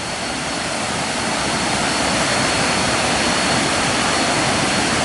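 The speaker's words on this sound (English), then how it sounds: "There's the waterfall." Broad, steady roar of falling water from Mae Rim waterfall in Chiang Mai, Thailand, a constant full-spectrum rush filling the whole clip with no voices.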